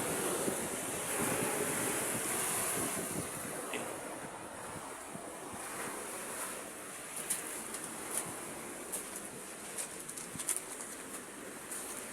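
Sea waves wash onto a shoreline in a continuous loud rush of surf that swells and recedes, with gusty wind buffeting the microphone throughout.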